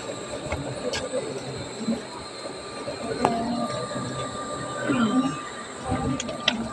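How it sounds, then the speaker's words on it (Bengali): A train pulls away from a halt on a hilly line, with low rumbling, clanking and brief squeals from the wheels. Voices talk faintly underneath. "ট্রেন ছেড়ে দিয়েছে।"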